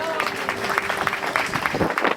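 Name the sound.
applause for the new couple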